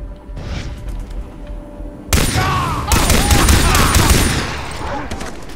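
Gunfire in the video game Far Cry 3: steady background shooting erupts into loud, sustained automatic bursts with ricochets and impacts, continuing densely for several seconds before easing slightly, with a voice faintly underneath.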